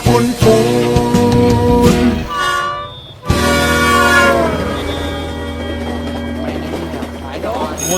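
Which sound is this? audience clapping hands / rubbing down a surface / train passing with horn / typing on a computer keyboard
train passing with horn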